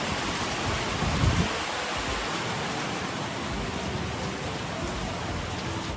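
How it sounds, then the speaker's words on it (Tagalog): Dense, steady roar of heavy rain pouring down, loud and continuous with no break, no voices audible. "Pero dito grabe yung ulan oh."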